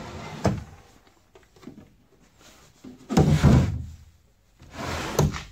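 Drawer of an old mother-of-pearl wardrobe in an abandoned house sliding and thudding, several wooden knocks followed by two louder scraping bumps close by.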